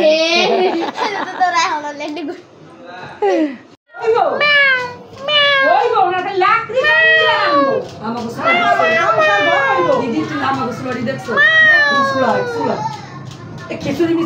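Repeated meowing from a cat, close and fairly loud, mixed with a child's high-pitched chatter throughout.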